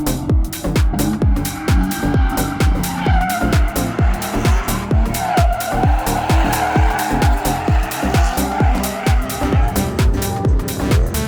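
Drift cars slide around a narrow, technical, steeply sloped track at a drift festival. Engines roar loudly and steadily while tires screech in rapid repeated bursts close by.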